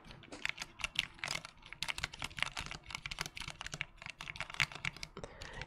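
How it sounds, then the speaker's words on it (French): Rapid typing on a Corsair K65 RGB Mini keyboard with a metal plate, a dense run of crisp, close key clacks in uneven bursts, with no voices. "son bruit il est assez spécial parce qu'on entend en fait un petit peu la plaque en métal."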